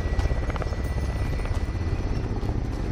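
An enemy attack helicopter in the Call of Duty Modern Warfare video game approaches with a loud, steady rotor thrum and a broad engine roar, and it fills the scene without voices.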